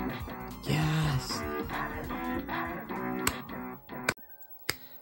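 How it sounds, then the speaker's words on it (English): Super Mario video game music plays from an SNES console, a faint melodic tune in the background, ending with a few sharp clicks. "Hopefully you can hear the Mario in the background."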